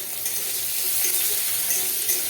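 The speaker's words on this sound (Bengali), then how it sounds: "রসুন আর পেঁয়াজ আমি ফোড়নের সাথে ভালো করে ভেজে নিচ্ছি" Chopped garlic and onion frying in hot oil with whole tempering spices for a Bengali dish: a steady, close sizzle and crackle with faint stirring, continuous and fairly loud, no voices.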